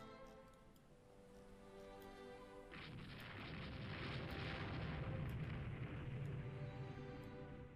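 A naval battle in the Rule the Waves 2 video game: a destroyer takes a hit, and a sudden broad explosive roar swells into a sustained low rumble over quieter background game sounds.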